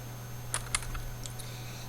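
Keys clack on a computer keyboard in a few quick, light taps, close and fairly quiet over a faint steady hum, with no one speaking.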